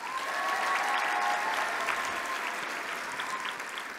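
Applause at an awards ceremony for romance novel winners, a large indoor audience clapping in a dense, sustained wash that eases slightly toward the end.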